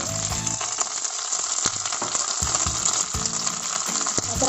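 Curry leaves and green chillies hitting a hot kadai with a spoon of oil for Chicken 65, a loud crackling sizzle with sharp spitting pops scattered throughout, close up.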